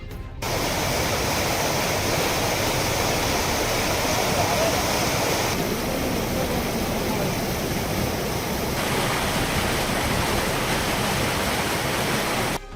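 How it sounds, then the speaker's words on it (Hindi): Drinking water gushes steadily from a kitchen tap in Banda, Bundelkhand, a continuous broadband rush that stays loud and even from start to finish with no voices. "आज वहां की रसोई के नल से शुद्ध पेयजल की धारा बह रही है"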